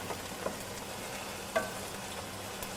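A large Spanish onion fries on a high flame with a steady low sizzle throughout, broken by a couple of brief stirring scrapes, the loudest about halfway through.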